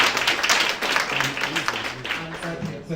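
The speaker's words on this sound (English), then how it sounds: "Can you just give a hand clap to Cesar?" A conference audience at a Global Entrepreneurship Week event gives Cesar a hand clap, heard as a spread of scattered clapping. A person talks over the applause.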